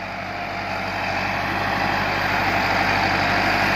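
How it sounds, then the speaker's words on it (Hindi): Massey 375 tractor with a Perkins engine running at a steady, loud idle-like drone, continuous and close with a deep rumble throughout, no voices. "बहुत पावरफुल ट्रैक्टर है 375 परकन इंजन"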